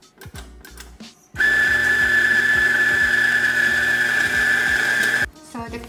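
A Lelit William coffee grinder grinding coffee beans, a loud, steady whirring motor whine with a high tonal note and rapid ratcheting clicks that starts abruptly and stops after about four seconds, with faint handling sounds around it.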